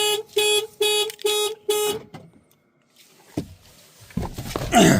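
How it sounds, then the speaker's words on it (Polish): A Ford Focus MK2 ST car alarm honks five times in a steady, evenly spaced rhythm, loud and close, then falls quiet before some scattered rustling and clunking noises. "Alarm działa,"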